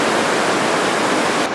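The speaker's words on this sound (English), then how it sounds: "that's the water that's running through the hydroelectric plant after it's made electricity" Water rushing out of a hydroelectric plant on the Chagres River in Panama after flood season, a loud steady broadband roar like a waterfall, continuous and unbroken, with no voices.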